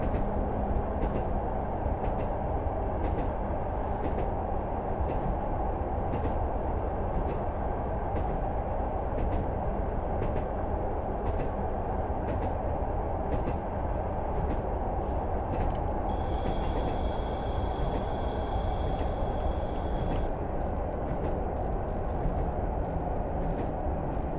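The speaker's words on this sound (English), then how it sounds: "So now coming into Bishop Auckland, where the train will terminate." Class 105 diesel train running in the Train Sim Classic video game, a steady dense drone with rhythmic rail clicks, a brief high tone partway through, continuous and without talk.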